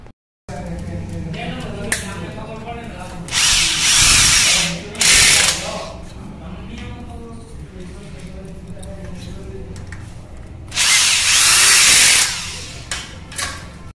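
A handheld power drill bores holes and drives screws into an ACP panel frame during office installation work, with several loud whirring bursts of a few seconds each between pauses, while someone talks throughout.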